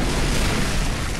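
A dense, continuous roar of low rumbling energy from a lightning cannon blast in a Roblox game, like a sustained heavy blast or explosion, loud and unbroken throughout.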